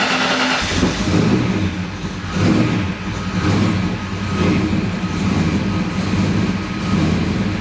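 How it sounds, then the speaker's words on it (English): Foxbody Ford Mustang engine idling after starting in a closed garage, a loud continuous low rumble with gentle surges in level throughout. "we're not leaving the engine running very long because the door is closed"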